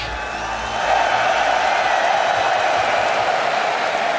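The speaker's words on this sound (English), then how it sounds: "Sorry, the crowd's really loud." A large arena crowd roars and cheers continuously at an esports grand final in Copenhagen, with the noise swelling and holding loud and dense throughout.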